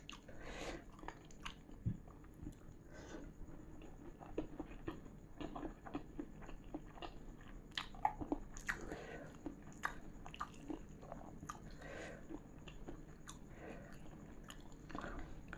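Someone eating a sahur meal of boiled petai, spinach and tempeh sambal, with steady close chewing, wet lip smacks and soft crunches that go on quietly throughout.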